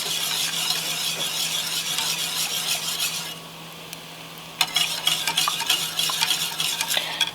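A homemade liquid latex mixture is stirred in a pot on the stove, a close, steady scraping and sizzling that stops briefly midway and then resumes with sharper scrapes and taps.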